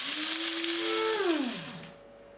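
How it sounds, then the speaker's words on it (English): An electric grinder whirs on Lignan Primvital seeds, a loud high motor whine that dips in pitch as it loads, then spins down and cuts off after about two seconds. "Now I'm ready to grind the seeds."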